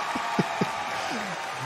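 Convention crowd applause at BlizzCon: a steady wash of clapping from a large audience, sustained and fairly dense, with a few faint vocal sounds and murmurs rising briefly above it.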